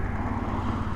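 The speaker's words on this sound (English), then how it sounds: "idling at 1000 RPM" A warm BMW R100 motorcycle engine idles steadily at about 1000 RPM in neutral, a low, even rumbling throb with no voices.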